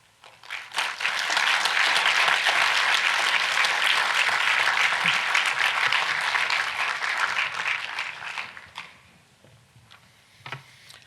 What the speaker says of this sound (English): Let's give our presenters another round of applause, please.